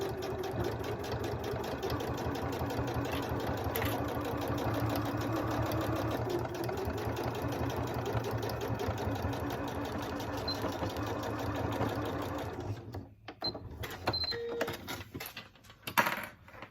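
A sewing machine runs steadily, stitching a fabric coin pouch with a continuous buzzing whir for about twelve seconds, then stops and gives way to a few quieter handling clicks and rustles.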